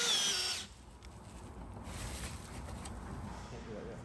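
A power drill bores holes in an airplane during installation work. A loud whine at the start gives way to a steadier, quieter grinding hum with faint clatter, close by in a workshop.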